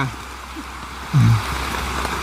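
Heavy rain pours down in a constant, dense hiss at a Thai hillside shrine, loud and unbroken, with a brief low murmur partway through.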